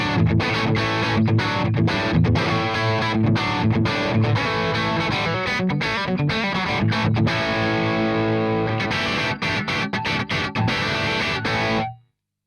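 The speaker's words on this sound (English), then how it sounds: "if you take a Les Paul and you're in the low gain mode" Overdriven Les Paul electric guitar chords through a Bad Cat Lynx amp in low-gain mode, mildly crunchy and full, strummed steadily for several seconds before cutting off abruptly.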